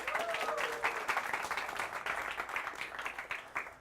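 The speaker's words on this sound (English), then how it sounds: "Round of applause for Rico." A comedy-show audience applauds a comedian, dense continuous clapping with a few scattered voices in the crowd, steady throughout a few seconds.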